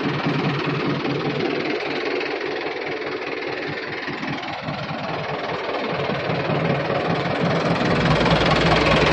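A tractor engine idling outdoors at night, a steady low rumbling drone with a faint knocking pulse, continuous and fairly close with no talk.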